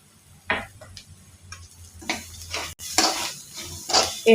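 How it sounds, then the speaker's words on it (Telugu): A spoon scraping and stirring an egg and grated coconut mixture in a pan, with irregular ticking clinks of metal on the pan and a soft sizzle underneath, close and fairly clear. "వేసుకున్నాక మొత్తం అంతా బాగా కలిసేలాగా కలుపుకోవాలి"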